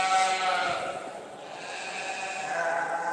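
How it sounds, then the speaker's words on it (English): Valais Blacknose sheep bleating at an agricultural show in Carlisle, one long, loud, quavering close call that fills the whole moment. "We've got some champion sheep out, ready to go."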